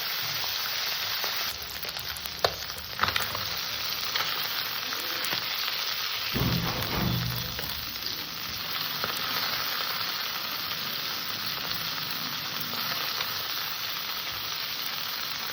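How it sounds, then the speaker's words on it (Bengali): Small puti fish fry in hot oil in a pan, filling the clip with a continuous loud crackling sizzle, broken by a couple of brief utensil clatters and a soft thump. "শুধু মাছটাকে আমি সুন্দর করে ভেজে নেব"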